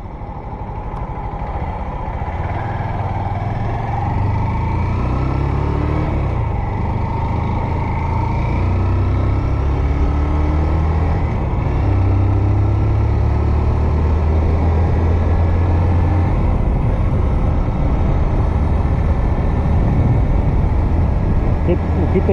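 Road traffic on a rural highway between Floriano and Oeiras in Piauí, Brazil, with steady engine and tire rumble and vehicles going by at speed, a continuous fairly loud roadside wash with occasional heavier truck drones, and people talking over it.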